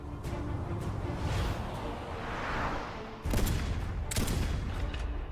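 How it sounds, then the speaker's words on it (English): Sniper rifle fire in Genshin Impact: loud, sharp shots ring out over dense battle noise, with two strong cracks near the end and no talk. "No way, it's Yelan with the shitty sniper rifle."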